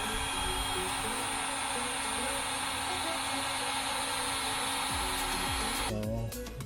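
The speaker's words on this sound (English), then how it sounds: "Now we're gonna get a heat gun and we're gonna heat shrink it." A heat gun blows steadily and loudly, shrinking a sleeve over a wire and spade connector while wiring a 12V bed power outlet on a Jeep Gladiator. The roar is continuous, then cuts off near the end.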